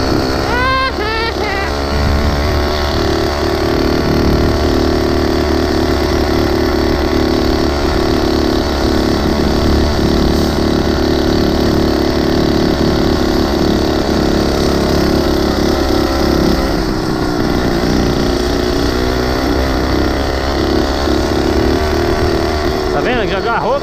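A motorized 20-inch mini bike engine idles steadily right after starting, a loud, continuous buzzing putter close by that runs unbroken, with someone talking over it.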